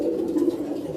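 Pigeons coo low and steady on a rooftop, a soft continuous murmuring close by with no talk.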